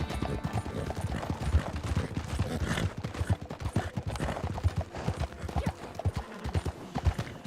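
Steady clip-clop of horse hooves in a video game, a fast, continuous rhythmic patter of hoofbeats heard close and fairly loud for the whole stretch, with faint background sounds underneath.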